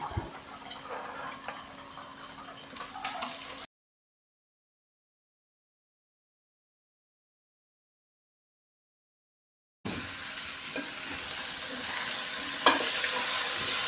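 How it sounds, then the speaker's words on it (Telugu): Tomato pieces stirred with salt and turmeric in a hot pan, a soft sizzling scrape that runs steadily at close range, drops into a long silent gap, then comes back alone. "ఇదంతా ఒకసారి అన్నీ కలిసే విధంగా ఒక్క నిమిషం కలుపుకుంటే చాలు"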